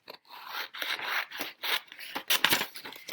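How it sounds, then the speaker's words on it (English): Scissors snip out small paper shapes, a close series of crisp rasping cuts in uneven bursts with short pauses between strokes. "take a pair of scissors, cut out the little shapes"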